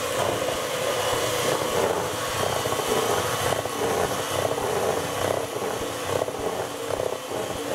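An electric mixer whirs continuously as cream is whipped toward soft peaks for key lime parfaits. The motor drone is steady and moderately quiet, with slight wavering and no talking.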